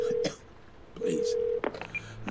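Telephone keypad tones from a phone being dialed in the video game Twelve Minutes, a few steady beeps separated by short gaps, with brief voice sounds in between.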